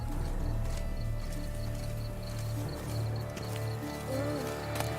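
Horse hooves clop steadily in the video game The Witcher 3: Blood and Wine, beneath a low droning musical bed, with a faint whinny-like call near the end.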